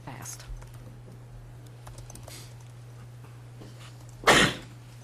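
A single sharp sneeze bursts out near the end after quiet room noise with faint clicks and a steady low hum, during a board meeting.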